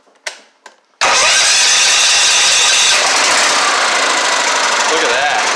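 A Tecumseh small engine on a homemade mud mower fires up without choke after a couple of pull-cord tugs, then settles into a loud, steady, close-up rattling idle.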